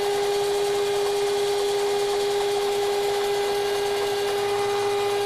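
A milling machine cuts metal in shallow back-and-forth passes, giving a steady, close, continuous grinding hum with a strong sustained tone throughout and no talking.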